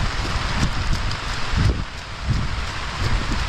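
Heavy rain pours outdoors in a flooded rural setting, a dense constant hiss with low gusty rumbles of wind, no voices.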